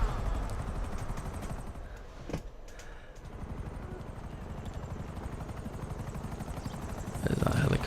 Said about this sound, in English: There's that helicopter.